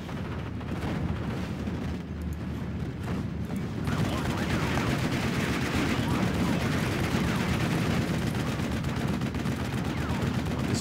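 Anti-tank gun and small-arms fire in the Steel Division 44 Normandy war game crackle in a dense, continuous barrage of shots and distant booms, with speech faintly mixed in under the battle din throughout.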